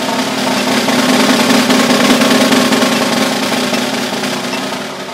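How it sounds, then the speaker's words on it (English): Snare drum roll at eight notes per beat from a concert band etude, a dense, fast, continuous rattle sustained close and loud for five seconds, with no talk. "Or an 8 that would sound like this."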